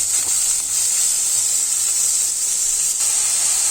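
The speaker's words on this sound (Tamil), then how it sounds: "வெங்காயம் வதங்கட்டும்" Onions sautéing in a hot pan for a baby potato gravy, a steady, even sizzle and hiss running close and continuous throughout with no break or voices.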